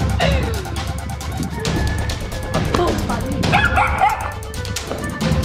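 A small dog yips and whimpers in excited bursts over a busy background with scattered clatter and some voices.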